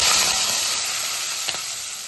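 Thinly sliced medium onions and two green chillies fry in hot oil with a loud, steady, close hiss, broken once by a brief stir. No one speaks.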